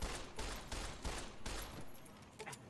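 Rapid bursts of gunfire from a Fallout: New Vegas multiplayer session, with several loud volleys overlapping in a steady rattling fusillade across the whole stretch and no talk over it.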